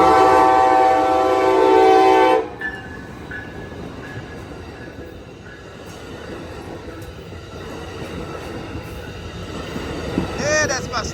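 An Amtrak Capitol Corridor passenger train led by SC44 Charger locomotive 2107 speeds past at 98th Avenue in Oakland, California, opening with a loud horn blast followed by a steady, roaring rush of rail noise close by.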